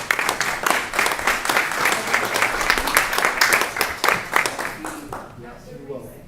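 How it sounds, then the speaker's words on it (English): Applause at a city council meeting: many hands clapping at a steady, moderately loud level for about five seconds, then fading out, with a voice beginning at the very end. "Can we give him a round of applause?"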